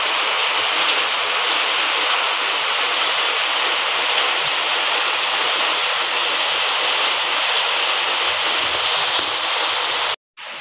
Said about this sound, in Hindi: तो आपको आवाज़ आई रही होगी पीछे से थोड़े शोर की, तो बाहर हो रही है बारिश